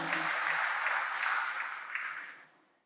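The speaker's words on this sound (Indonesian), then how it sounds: "Tepuk tangan buat Tuhan Yesus saudaraku sekalian" Congregation applause at a church celebration service, dense and steady across the room, holding level before tapering off toward the end, with no talk over it.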